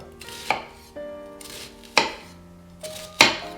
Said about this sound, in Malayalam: ഇത് കുറച്ച് ചങ്കി ആയിട്ട് അരിയാം, നമ്മൾ കൂടുതൽ ചെറുതാക്കണ്ട